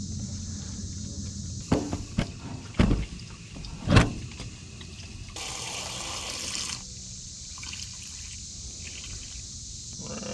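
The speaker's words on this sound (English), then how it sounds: "we'll get her filled up with water now." Water pours and gushes into the cooling system of a Cummins-swapped Chevy C20 pickup for a sustained stretch, preceded by a few sharp clunks and knocks nearby.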